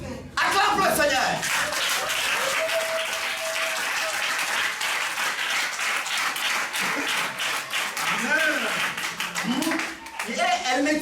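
Church congregation clapping loudly and continuously in acclaim of the Lord, a dense sustained roar of hands with voices calling out and talk mixed in.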